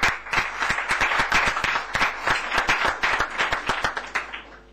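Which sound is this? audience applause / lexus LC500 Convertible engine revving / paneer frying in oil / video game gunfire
audience applause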